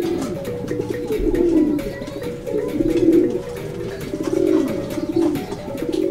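A racing pigeon coos close by in Zambales, repeated deep rolling coos in three or four even phrases over a soft background with faint chirps.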